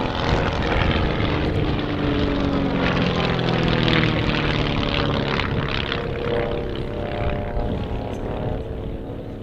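Fireflies aerobatic propeller planes perform a flying display at the Dunsfold Wings and Wheels airshow, with a loud, sustained engine roar and propeller drone that shifts in pitch as the aircraft loop and pass overhead.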